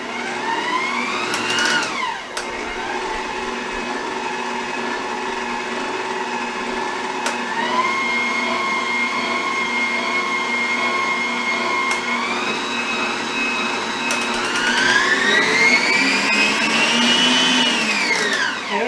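Electric mixer beating nectarine pound cake batter as flour is poured in, a steady loud whirring hum with shifting pitch that climbs near the end, no voices.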